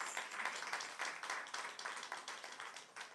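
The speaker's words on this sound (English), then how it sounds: "Everybody give him a round of applause." An audience claps for a live artist painting at an event, a fairly faint, uneven patter of hands with individual claps standing out in a rhythmic spread.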